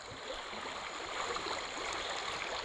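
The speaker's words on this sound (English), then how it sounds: "We got a nice little mini waterfall right here." Creek water rushes over a small waterfall during tubing, a continuous close burble and splash that holds steady and fairly loud, with no talking.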